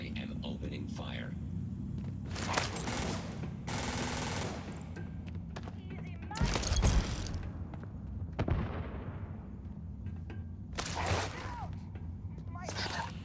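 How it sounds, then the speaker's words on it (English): Gunfire in a video game comes in repeated loud bursts of shots and rumbling blasts, with a player talking between and over them. "I am opening fire"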